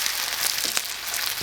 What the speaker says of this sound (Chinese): 这油温烧热，下入牛肉， 你炸一下